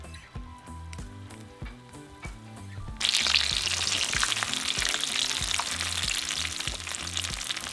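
Rajas and cheese flautas fry in oil with a crackling sizzle that turns suddenly much louder and denser partway through, then stays steady, near and without talk.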